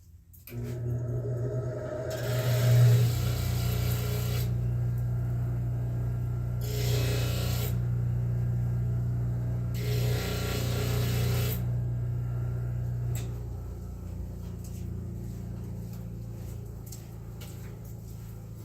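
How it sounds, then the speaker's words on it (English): A dull woodturning gouge is touched up on a bench grinding wheel: the motor hum runs steadily while three or four bursts of hissing grind come as the steel meets the stone, then the wheel spins down. "I can tell my tool's getting a little dull from turning, so I'm going to take it to the wheel and touch it up real quick."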